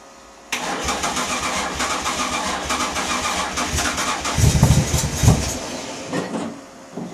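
An AJ30 Haynes Roadster kit car engine on a first start attempt: after a short quiet moment the starter suddenly cranks, and a steady loud churning follows, with heavier uneven thumps near the end but no clean catch.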